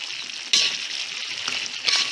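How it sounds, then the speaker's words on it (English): Prawns, shelled and deveined with tails left on, sizzle steadily as they are stirred while frying in sambal with petai and potatoes, a continuous close hiss with brief louder bursts when the pan is stirred. "And give it a quick stir."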